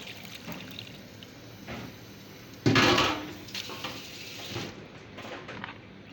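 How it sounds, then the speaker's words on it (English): Garden egg leaf juice is poured through a filter into a bowl, beginning with a sudden splashing clatter and then settling into a softer trickle that fades out over a few seconds, close by. "Now pour the juice here."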